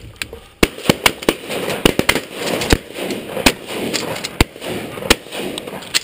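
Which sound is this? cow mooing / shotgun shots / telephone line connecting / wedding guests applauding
shotgun shots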